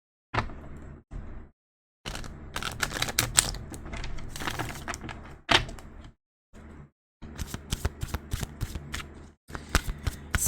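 A deck of tarot cards is shuffled and cut close up, with bursts of rapid riffling and slapping clatter broken by short silent pauses, and no talking.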